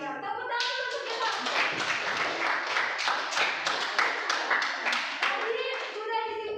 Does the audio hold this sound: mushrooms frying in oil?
no